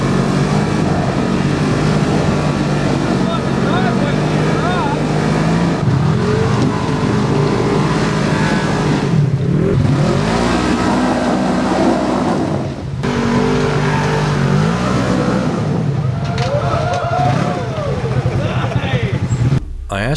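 Off-road UTVs rev their engines while climbing rocky trail obstacles. Loud, rising and falling engine roars run continuously throughout, close by, with outdoor noise around them.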